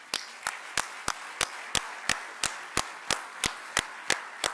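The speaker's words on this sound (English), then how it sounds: "he requires a thunder round of applause" Steady, evenly spaced claps ring out at a chartered accountants' conference in Dubai, about three per second. They sound crisp and fairly close, like synchronized rhythmic clapping rather than a loose ovation.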